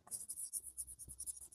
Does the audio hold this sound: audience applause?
no